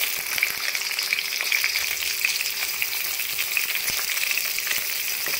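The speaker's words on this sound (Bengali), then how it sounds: "গাজরটা একটু ভাজতে সময় লাগে, তাই আমি গাজরটা আগেই দিয়ে দিলাম" Chopped carrots fry in hot ghee and oil for fried rice, making a continuous crackling sizzle with small pops and a few faint stirring clicks. It stays steady and close throughout.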